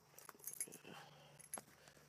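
Keys jingle faintly in a couple of short metallic bursts, close by but quiet.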